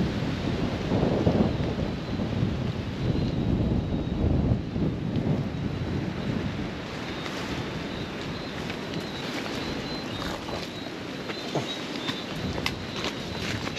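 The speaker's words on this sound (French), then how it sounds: "Bon, il y a du vent." Wind blows on a mountainside in Guadeloupe, buffeting the microphone in a continuous loud, low rumble with gusty surges and faint crunching steps underneath, without speech.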